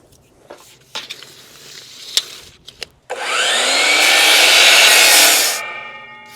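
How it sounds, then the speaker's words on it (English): A power saw cuts 2x6 wooden boards to length for a shed ramp. A few knocks and clicks come first, then the saw roars loud and steady through the wood for about two and a half seconds and winds down. "So what I'm doing is I'm cutting these boards to length, which is 6 feet, 8 inches"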